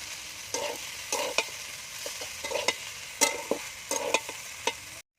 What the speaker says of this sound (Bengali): সয়া সস দিয়ে দেবো পরিমাণ মতো দিয়ে আমি ভালো করে ভেজে দেবো